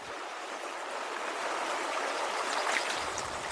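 Steady broadband rush of a waterfall and a flowing stream with very clear water over stones in a national park in Munnar, Kerala, constant and fairly soft with no talk.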